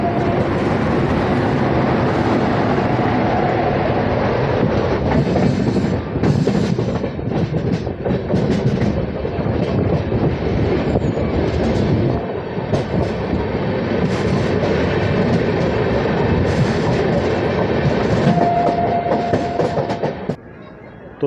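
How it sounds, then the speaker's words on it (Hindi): The Ranthambore Express passenger train runs on Indian rails between Jaipur and Indore, with a loud, continuous rumble and rhythmic clickety-clack of wheels on rail joints that fades at the very end. "रणथंबोर एक्सप्रेस अपने 9वें स्टॉपेज दकिया तालाब पर पहुंच गई है"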